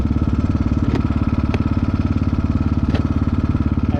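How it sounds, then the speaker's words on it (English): A 2022 GPX FSE300R motorcycle fitted with an ARacer ECU rumbles with a fast, even engine pulse, with a few sharp pops cracking out over it during deceleration. "I definitely got some engine brake pops."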